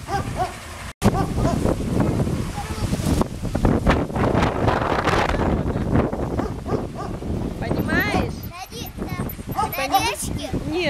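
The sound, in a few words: strong wind outdoors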